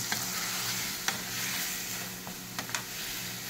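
Potatoes coated in ground spices and salt sauté in a pan for aloo dum with a constant close sizzle, broken by a few sharp scrapes of a stirring spoon.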